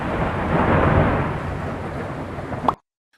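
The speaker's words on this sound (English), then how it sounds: "The following video was recorded during a storm" A thunderstorm rumbles in one long, loud, broad roar of thunder with heavy rain-like noise that swells and then cuts off abruptly.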